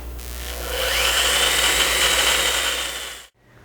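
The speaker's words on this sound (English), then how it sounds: "Select reverse, then press and hold the trigger until the spindle returns back to the 0 degree starting position." An AGP DB32 digital handheld pipe bending machine runs its spindle in reverse, a loud steady motor whine with rising gear tone lasting about three seconds before cutting off abruptly, no talk.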